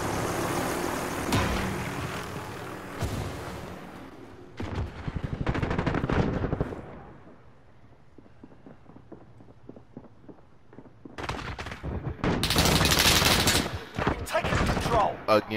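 Gunfire in the video game Call of Duty: Modern Warfare, with loud bursts of automatic shots, a quieter stretch of scattered single reports, and then a dense, heavy volley near the end.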